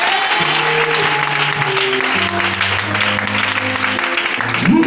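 Applause from a church congregation during a French-language worship service, steady clapping filling the whole stretch with a sustained chord of music underneath.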